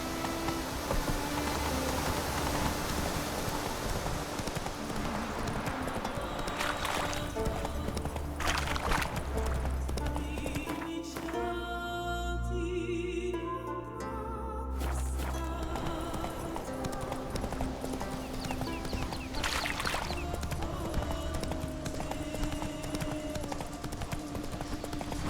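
Horse galloping in The Witcher 3, hooves clip-clopping in a steady rhythm throughout with a brief neigh, alongside game music and ambience.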